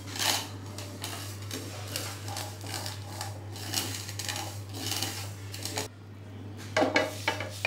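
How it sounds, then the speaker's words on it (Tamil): Roasted mustard seeds tumble onto a dry plate in a scattered, clattery patter of small hard grains, fairly close, over a steady low electrical hum, with a few sharper rattles near the end. "காஞ்ச தட்டில் கொட்டி வச்சுக்கிறேன்"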